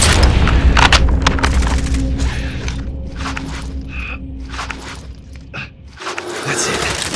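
Gunfire in a video game: repeated sharp shots and booms crack in quick bursts, loud and close, with the shooting thinning out briefly before picking up again.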